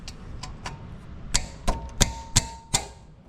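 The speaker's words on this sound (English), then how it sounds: "We're going to remove these two bolts here." A tool working the brake caliper bolts on a Jeep JK gives a series of sharp, close metallic clicks, about eight in all, faint at first and then louder and evenly spaced.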